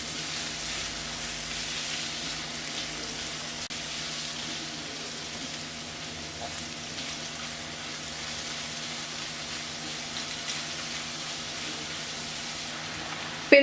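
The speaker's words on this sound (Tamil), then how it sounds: "மிதமான தீயில் இந்த இஞ்சி, பூண்டு, வெங்காயம் இதெல்லாம் ஃப்ரை பண்ண போகிறேன்." Ginger, garlic and onion frying in a pan over medium heat, giving a steady, soft sizzle that runs evenly throughout with a faint hum underneath and a brief clatter at the very end.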